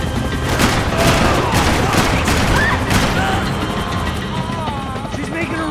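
Rifle gunfire in Max Payne 3, dense bursts of shots over a loud helicopter drone and shouting, with volleys strongest early and thinning toward the end.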